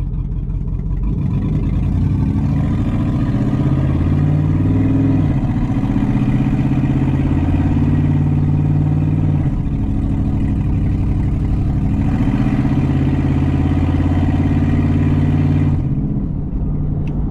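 A 2009 Chevrolet Tahoe LS V8 running with its catalytic converter stolen gives a loud, raspy, continuous engine drone that rises and falls as it revs, close up and with no talking.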